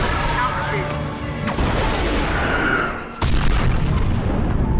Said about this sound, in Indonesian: pesawat Phoenix meledak saat menabrak sekawanan burung